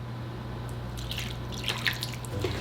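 Water from a cup runs into an unbaked pie crust for a viral water pie, heard as a quiet trickle and splash over a steady low hum, with no talking.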